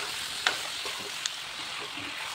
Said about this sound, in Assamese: এয়া পিঁয়াজখিনি ৰেডি হোৱাৰ পাছত মই মাংসখিনি দি ভালদৰে লৰাই লৈছোঁ